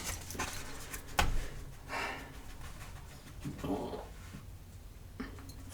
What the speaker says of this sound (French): Mon chien a roté.